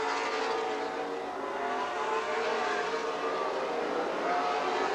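Race cars circle a short oval at Golden Sands Speedway in Wisconsin Rapids, a continuous dense engine roar from the pack at steady distance, with no talking.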